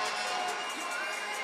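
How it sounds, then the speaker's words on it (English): Indoor soccer crowd at Panther Arena during a Milwaukee Wave vs Baltimore Blast match, cheering and roaring steadily in a dense, sustained wash of voices. "the crowd is on its feet at Panther Arena"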